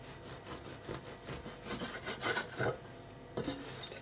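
A knife saws through a crustless club sandwich of ham and buttered bread with light, rasping back-and-forth strokes, a series of soft close scrapes with brief pauses.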